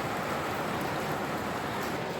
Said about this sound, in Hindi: बहुत मज़े की बहुत आला बारिश हो रही है।